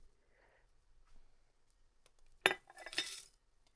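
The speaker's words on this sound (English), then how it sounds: "I'm going to add my black-eyed peas into a jar. I will use a" Light freeze-dried black-eyed peas are spooned into a jar, giving faint scrapes followed by a brief close cluster of clinking and rattling against the glass.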